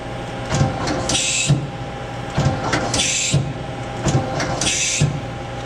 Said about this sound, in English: I'm going to do some turret indexing.